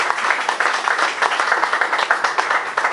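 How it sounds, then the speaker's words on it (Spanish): A Spanish-speaking church congregation applauds the Lord, loud and close, with many hands clapping in a continuous, busy patter and no talk over it. "Denle un aplauso al Señor"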